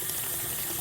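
Makeup brushes are pushed under water, giving a short, close gush and swish of liquid.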